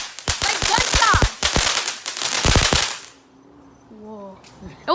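TNT consumer fireworks bursting in a rapid string of sharp, loud cracks like gunfire for about three seconds, then falling quiet with faint whistling tails and distant pops, voices briefly audible.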